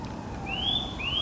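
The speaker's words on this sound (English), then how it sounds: "And you can hear a siren" A siren wails in woodland as two rising electronic sweeps, thin and faint over a soft outdoor background, as if heard from some distance away.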